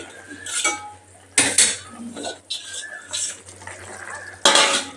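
Koi fish going into a pan of potato curry in a home kitchen, with loud metallic clanks and scraping of a utensil against the pan in a few sharp bursts, under a low background hum.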